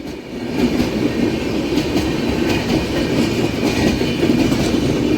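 A MEMU train running between Kakinada and Visakhapatnam, heard from on board as a loud, continuous rumble of wheels on rails with a rhythmic clatter of track joints throughout.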